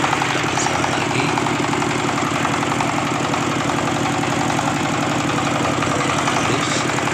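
A reassembled diesel engine runs steady and smooth at idle, a dense continuous close-up drone with an even mechanical throb and no pauses throughout.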